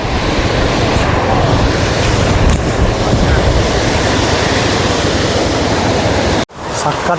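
Loud, continuous roar of rushing water close by at the full KRS dam, broad and unbroken, cutting off abruptly near the end.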